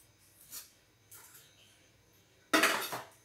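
Cooking pots handled and unpacked from a gift box: a few brief clattering knocks of cookware, with a louder, longer rattle near the end, set against a quiet room.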